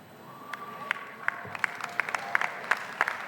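An audience at a high school commencement claps in scattered, distinct claps that build into a rhythmic, fairly close round of applause over a low room background.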